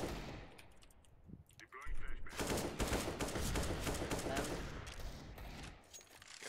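Rapid gunfire in Counter-Strike: Global Offensive, a dense burst of repeated shots that starts abruptly after a quieter moment and keeps up for several seconds, loud and close, with faint game noise underneath.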